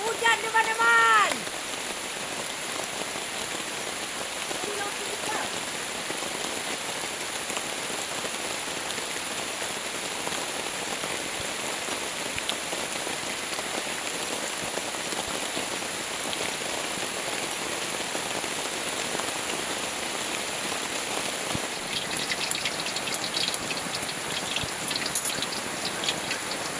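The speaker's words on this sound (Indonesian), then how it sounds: "Ini hujan deras sekali nih." Heavy rain pours steadily over a forest campsite in daytime, a dense continuous hiss of drops on surfaces lasting throughout, with a brief voice at the start.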